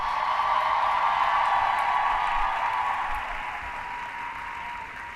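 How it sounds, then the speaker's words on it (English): Graduation-day audience at a 2019 commencement ceremony applauding family and supporters, a steady wash of clapping from a large crowd that stays loud, then thins and softens over the final seconds. "Give them a clap."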